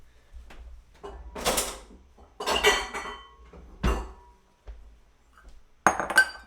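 A spoon stirring Greek yogurt and whipped cream in a bowl, scraping and clinking against the sides in several separate bursts, close and fairly loud, with no one talking.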